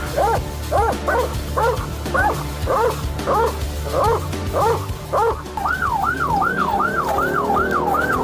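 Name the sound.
police dog barking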